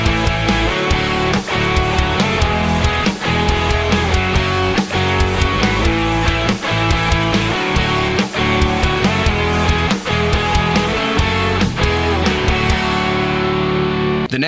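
A full band song plays continuously, with steady drums keeping a regular beat under distorted guitars at a loud, even level.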